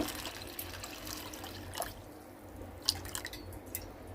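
Water is poured into a bowl of rinsed sago pearls, a soft trickling and dripping sound that stays faint and close, with a few small splashes and a louder clink near the end.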